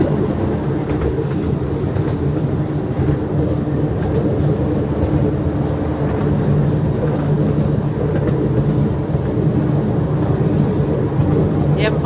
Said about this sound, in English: They ride like smooth on the rails.